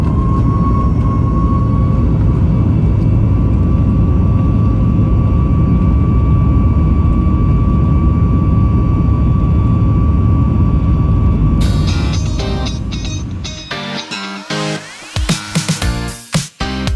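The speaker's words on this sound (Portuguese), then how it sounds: "prontos para a decolagem." Arajet jet airliner on its takeoff roll from runway 10 left, a loud, steady engine roar with a whining tone filling the cabin, then rumbling and rattling bumps as the plane speeds down the runway toward liftoff.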